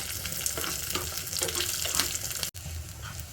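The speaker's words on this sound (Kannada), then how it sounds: "ಬೆಳ್ಳುಳ್ಳಿ ಚೆನ್ನಾಗಿ ಫ್ರೈ ಆಗಬೇಕು." Oil tempering with mustard seeds, urad dal, curry leaves, dried chilli and crushed garlic: a dense, continuous hiss and crackle of hot frying, close and steady, broken by one abrupt cut near the end.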